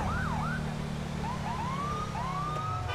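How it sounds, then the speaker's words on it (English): Police car siren wailing and yelping in the GTA 5 video game, loud and continuous over a heavy low engine rumble in dense traffic. "people are losing their minds because I have my lights and siren on"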